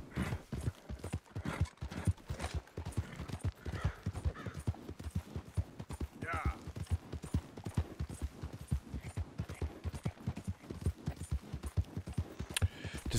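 Steady clip-clop of horse hooves trotting in a regular rhythm in the video game Red Dead Redemption 2, with an occasional faint whinny, at moderate volume and without talk.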